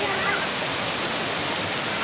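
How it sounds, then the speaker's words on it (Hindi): A waterfall pours down with small drops splashing, making a steady, close, unbroken rush of water at even loudness throughout. "अभी ऊपर से सारे झरना है, पानी का सुंदर छोटी छोटी बूंद गिरते हुए"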